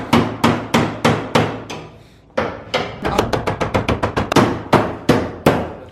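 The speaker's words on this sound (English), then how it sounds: "then you can hammer them up from underneath" Sharp metallic hammer blows strike a car body panel from underneath during a widebody install, slow single hits at first, then a quick rapid burst of strikes, then a few more spaced blows, loud and close.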